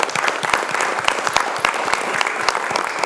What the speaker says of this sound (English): So I want you to give yourselves a round of applause.